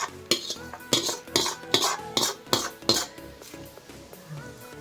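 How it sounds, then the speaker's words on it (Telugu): Tamarind tempering being mixed into cooked rice with a metal spoon, rhythmic clinks and scrapes against the vessel about once every half second, close and fairly loud with no talk. "అన్నంలో వేసి కలిపేసుకుందాం"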